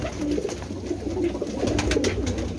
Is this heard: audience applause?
no